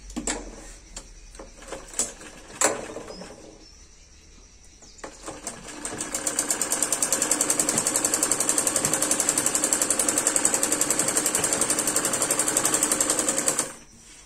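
An electric sewing machine stitches a salwar, starting after a few scattered clicks and fabric handling, then running in a fast, steady, close whir for several seconds before stopping.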